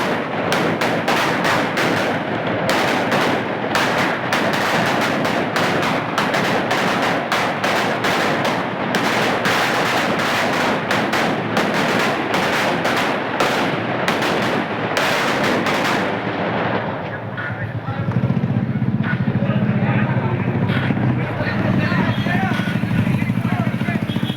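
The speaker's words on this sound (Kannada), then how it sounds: "ಕುಟುಂಬದವರು ಅಭಿಮಾನಿಗಳು ಹಾಗೂ ಸಾರ್ವಜನಿಕರು ಪಟಾಕಿ ಸಿಡಿಸಿ ಅಭಿನಂದಿಸಿದರು" Firecrackers set off to congratulate a newly elected panchayat president: a long, dense barrage of rapid, loud crackling bursts, followed by a calmer stretch of crowd and ambient noise.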